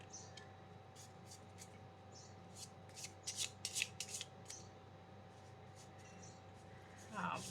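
Tarot cards drawn from a deck and laid down one at a time during a pick-a-card reading: a string of soft, close card slaps and slides, quiet and brief, with a small shuffle near the end.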